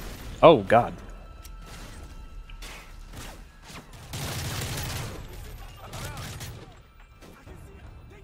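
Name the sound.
gunfire in video game Call of Duty Modern Warfare 3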